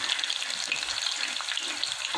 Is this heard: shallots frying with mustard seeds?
yes